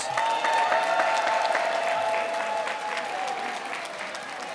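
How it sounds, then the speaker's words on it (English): Sustained audience applause at an African heritage reception hosted by the New York City mayor, a thick, steady round of clapping that slowly tapers, with a faint tone lingering beneath. "Look at each other and give your neighbor a round of applause."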